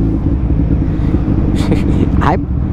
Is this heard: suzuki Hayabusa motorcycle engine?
yes